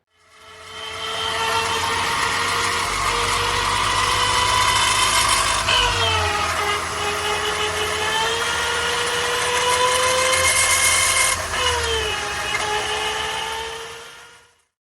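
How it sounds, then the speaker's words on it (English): A failing transfer case on a Honda Ridgeline with about 80,000 miles, recorded while driving: a continuous loud droning whine with tonal layers that shift in pitch, steady for most of the recording over low road rumble, with no talk. "Listen to how my failing transfer case sounds."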